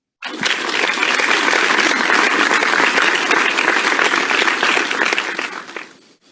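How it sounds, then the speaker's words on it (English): Audience applause fills a room at the Future Water Awards after winners are announced, dense steady clapping starting abruptly, holding for about five seconds, then fading out. "I've learned going third or fourth this evening to wait for the applause to finish."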